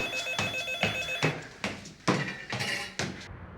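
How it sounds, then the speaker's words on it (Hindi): A home landline telephone and a mobile phone ring at once, with bright, repeated ringing bursts in a steady pulsing rhythm. Loud and close, with no one speaking over them. "लेकिन घर का टेलीफोन और आपका मोबाइल मुसलसल बज रहा है।"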